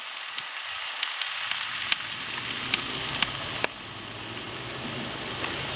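Hot dogs sear on the grate of a Char-Griller Akorn kamado grill with a steady, close sizzle, dotted with sharp pops and crackles that never let up.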